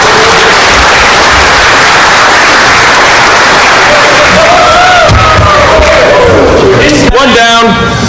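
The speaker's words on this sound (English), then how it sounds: "Let's give him a round of applause." Audience at a DEF CON 7 conference talk on TCP/IP exploits breaks into loud, dense applause that fills the room continuously, with some voices and whoops mixed in near the end.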